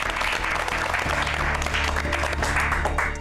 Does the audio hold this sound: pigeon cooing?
no